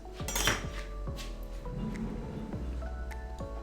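A chopping board knocking and clattering on a kitchen counter while Japanese salmon is prepared, a series of hard, close wooden knocks and clinks spread irregularly over a soft background, with no speech.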